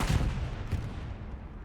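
A 75 mm tank cannon fires shells in a Hurtgen Forest battle in a competitive war video game, one sharp booming blast that rolls off into a fading rumble.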